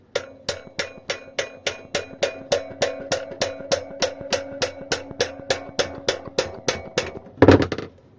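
Metal tapping on an e-bike hub motor: about twenty-five evenly spaced, ringing taps in a steady rhythm, close and clear, ending with a brief clatter.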